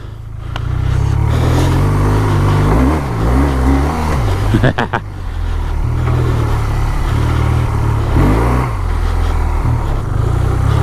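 A BMW R 12 G/S motorcycle engine idles and blips at low speed during a slow turnaround, a loud, close, rumbling throb with a few small revs. A rider talks over the engine.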